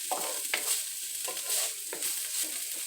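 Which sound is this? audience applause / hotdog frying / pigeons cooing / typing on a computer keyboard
hotdog frying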